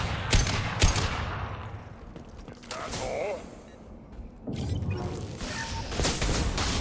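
Gunfire and crashing explosions of blown-up crates from the video game Mass Effect 2 come in sharp bursts and impacts between stretches of rumbling mechanical noise and creaks, loud and close.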